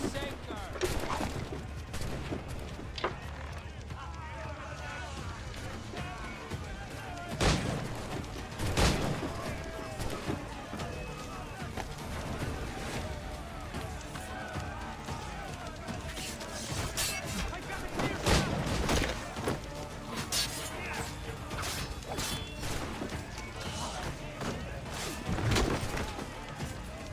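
Ship cannons fire in Assassin's Creed IV Black Flag, a few heavy booming blasts scattered across a long stretch of naval battle ambience, with in-game voices talking.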